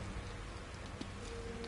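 Rain falls in the horror video game The Evil Within as a faint, constant patter and hiss with a few soft drop ticks and no one talking.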